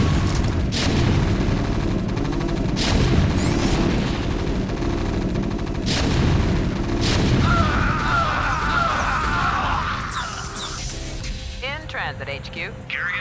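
Video-game battle sounds from StarCraft: Brood War as a power station is destroyed: rapid gunfire and booming explosions pile up continuously, with a voice narrating over the din.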